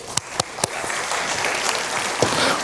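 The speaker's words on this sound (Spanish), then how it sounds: "Un fuerte aplauso." At a circular economy forum, an audience applauds a newly welcomed speaker, a steady spread of clapping with a few sharp taps and knocks standing out near the front.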